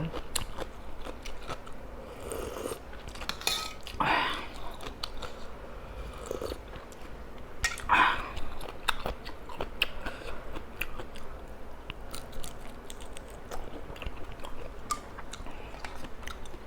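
Someone eats spicy fresh shrimp salad up close, with wet chewing, crunchy bites and smacking that repeat irregularly over a quiet background.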